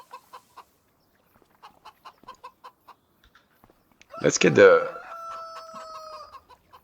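Chickens in Farming Simulator 25 on a Romanian farm map, a burst of loud clucking and squawking with a drawn-out crow-like call, following soft rhythmic game sounds, with a voice talking briefly.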